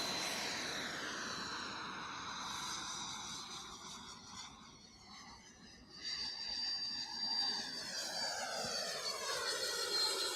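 Large radio-controlled model airplane flying outdoors, its engine droning steadily overhead with a smooth rising and falling pitch as it passes at a moderate distance.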